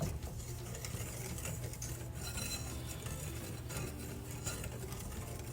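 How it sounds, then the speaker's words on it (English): Dry cornbread ingredients, including granulated sugar, baking powder and kosher salt, whisked together in a bowl, giving a steady, continuous scraping and stirring rustle with no talk. "go ahead and whisk that together"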